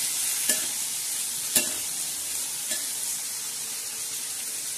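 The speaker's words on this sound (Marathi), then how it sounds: "आता छान असं परतून घेणार आहोत." Cluster beans with coriander sautéing in a pan give a steady, fairly quiet sizzle, broken by a few sharp clicks and scrapes of a spoon stirring against the pan, with no talking.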